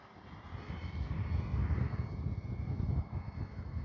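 Large FMS Ranger 1800mm RC model airplane flying on a windy summer day, its propeller engine droning steadily at a moderate distance and swelling louder as it passes, with wind buffeting the microphone.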